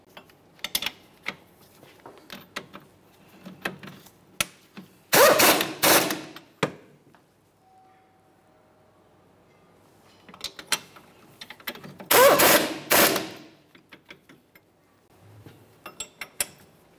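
Wheel bearing hub bolts are snugged on a 2011-2020 Toyota Sienna with a ratchet, making bursts of rapid close ratcheting clicks between scattered metallic clinks and handling noises, with quiet gaps between.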